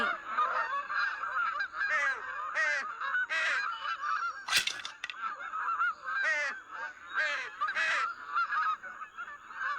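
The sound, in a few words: birds honking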